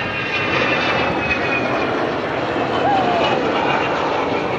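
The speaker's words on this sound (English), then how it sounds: "Here she is, the wonderful Avro Vulcan." An Avro Vulcan XH558 delta-wing jet bomber flies over an airshow at Abingdon with a loud, sustained engine roar that swells slightly, while an announcer talks over it.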